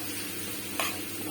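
Fava beans (foul) are stirred in a pan with a soft, faint scraping and sizzle, a single brief utensil scrape standing out near the end.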